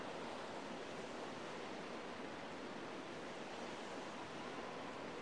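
Water in the video game Wind Waker makes a steady, loud rushing wash like ocean surf, continuous and unbroken with no talk.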